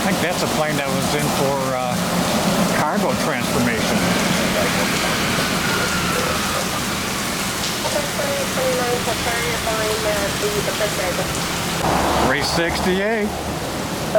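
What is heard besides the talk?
heavy rain pouring during storm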